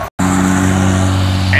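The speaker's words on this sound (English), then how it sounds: "We got a GTO Judge" A 1969 GTO Judge's engine at a Musclepalooza muscle car show drones loud and close with a steady, throaty rumble, starting right after a brief moment of silence.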